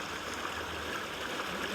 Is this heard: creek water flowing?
yes